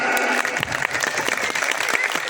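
An audience at a religious sermon bursts into loud, dense applause that continues steadily throughout.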